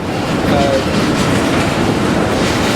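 Rumbling tanker railcars being switched slowly nearby in a rail yard, with a steady mechanical roar and a brief faint wheel squeal, no voices.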